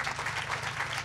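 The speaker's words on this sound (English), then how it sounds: "Give them a round of applause." A crowd at an outdoor Islamic charity festival in Tampa Bay applauds the volunteers, a dense, steady burst of many hands clapping heard up close without pause.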